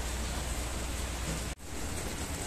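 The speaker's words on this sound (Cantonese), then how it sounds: "好大雨啊今日" Heavy rain pours steadily at a holiday resort, a dense, even broadband hiss that holds throughout, briefly cut by a sharp dropout before resuming.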